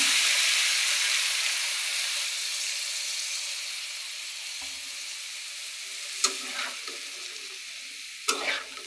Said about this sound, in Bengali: এখন আমি বরবটি আলুগুলো দিয়ে দিব